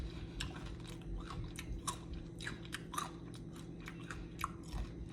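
Crispy coconut shrimp crunched in repeated close bites, with sharp crackling bursts and soft chewing between them against a low steady background hum.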